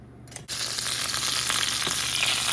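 Mustard seeds, cumin and fenugreek splutter in hot sesame oil, a dense crackling sizzle that starts abruptly after a brief quiet moment and continues loud and close.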